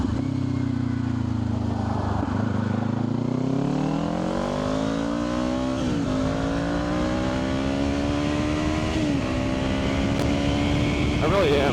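Kawasaki Ninja 500 motorcycle with an upgraded aftermarket exhaust, revving up and down in steady continuous swells, loud and close throughout, with speech-like voice presence mixed in.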